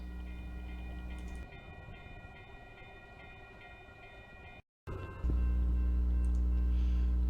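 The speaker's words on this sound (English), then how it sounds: "a Siemens Charger leads Amtrak number 319 out of Uptown Station for St. Louis and Kansas City" Amtrak passenger train hauled by a Siemens Charger locomotive departing Uptown Station in Bloomington-Normal, Illinois: a steady low rumble and engine drone with tonal hum, cutting out briefly before returning louder and heavier, no voices.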